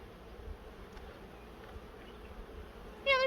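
Honey bees from an opened hive being kept for comb honey buzz in a steady close swarm drone, with a sharper, louder bee buzzing right up near the end.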